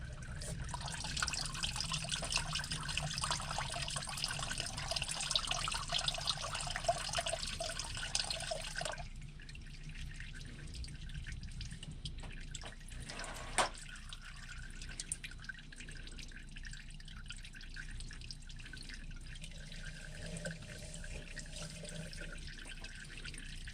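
Engine oil drains from a GMC Yukon XL Denali with a Duramax LM2 diesel engine into a pan, a steady splashing trickle that stops partway through, leaving faint drips and quiet shop noise.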